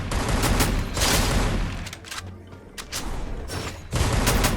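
Bursts of rapid gunfire from the video game Free Fire, loud and sustained, with short lulls between volleys.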